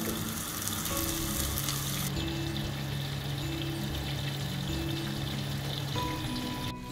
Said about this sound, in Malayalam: അത് നമുക്ക് അഡ്ജസ്റ്റ് ചെയ്ത് വറുക്കാം.